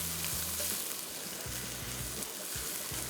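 Onion and garlic frying in a pan as the base of a three-cheese sauce, a dense continuous sizzle with low bubbling, loud and close, no voices.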